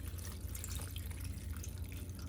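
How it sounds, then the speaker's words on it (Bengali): Water poured into a cooking pot of meat for shami kebab, a quiet, soft, continuous trickle and patter of liquid with no talking. "দিয়ে দিলাম পানি"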